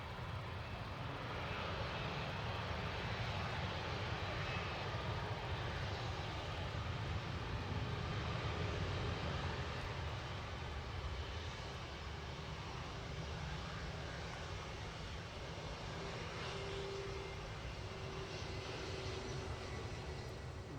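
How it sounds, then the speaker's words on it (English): An all-white Airbus airliner at Manchester Airport, its engines producing a steady, fairly distant roar that holds evenly throughout with no talking. "Seems to be an all-white Airbus."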